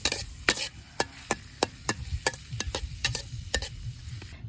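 Chopped onion and green chilli frying in oil in a kadai, with a soft sizzle under a string of regular wooden knocks and scrapes from stirring, close and moderately loud.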